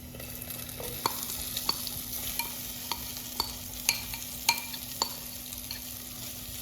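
Dhal mallum, a Sri Lankan lentil dish, sizzles in a frying pan while a spoon stirs it, with a soft continuous fry punctuated by sharp scraping clicks at irregular intervals.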